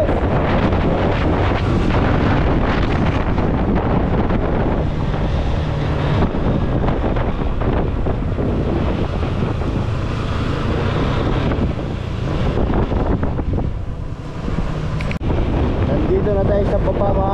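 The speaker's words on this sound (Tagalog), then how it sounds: "Ang lakas pa rin ng hangin" Strong wind roars continuously across an open outdoor spot, buffeting the microphone in a steady, heavy rush with little letup, and voices faintly mixed in underneath.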